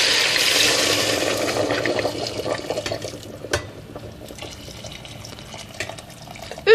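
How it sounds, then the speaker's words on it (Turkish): Hot water pours steadily into a pot of browned chicken thighs in a home kitchen, a loud close splashing stream that gradually softens and thins out, with a brief clink near the end. "Şimdi sıcak suyumuzu ilave edelim üzerine."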